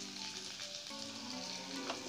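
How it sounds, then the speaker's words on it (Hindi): Ground spices, turmeric, red chilli, coriander and cumin powders, roasting in a hot pan for a tangy-sweet raw tomato curry, a steady close sizzle with faint stirring throughout and no talk. "सारे मसाला को हम थोड़ा सा भून लेंगे।"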